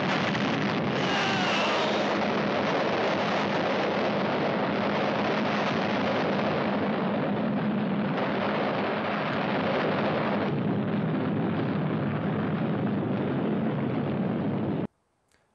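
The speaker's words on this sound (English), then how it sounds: "the city blows up in a huge atomic explosion" A massive, continuous roaring blast of an atomic explosion destroying a city in the animated film Pinocchio in Outer Space, with deep rumble rolling on for many seconds, loud and dense, then cutting off abruptly into near silence.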